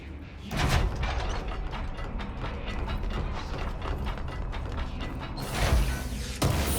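A door-opening mechanism in the video game Control grinds and ratchets for several seconds with gear-like clicks and creaks, steady and fairly loud, swelling at the start and again near the end.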